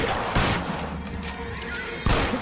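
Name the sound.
gunfire in the video game L.A. Noire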